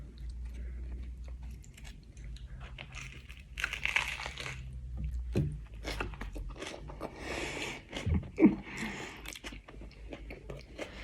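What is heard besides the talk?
biting and chewing an egg omelette sandwich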